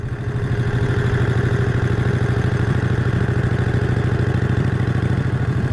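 A 1951 Harley-Davidson EL Panhead V-twin runs with a loud, close, rapid throbbing pulse and mechanical clatter, steady in rhythm throughout with no voices.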